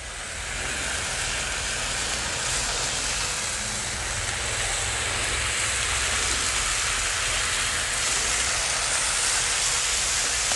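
Thick-cut Wright's hickory bacon sizzles on a Blackstone griddle, a steady, dense hiss that holds evenly from start to finish with no voices over it.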